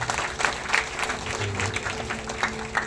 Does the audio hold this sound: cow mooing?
no